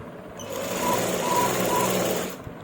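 A sewing machine stitches a kameez. Its steady, close, mechanical whirr keeps going for most of the moment and fades out at the end, with no talking over it.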